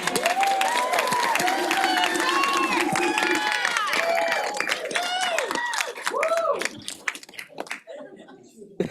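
An audience at a school district board meeting in San Mateo applauds and cheers for Dirk Morrison: a dense, continuous patter of many hands with whoops, and several voices call out over the clapping before it thins out.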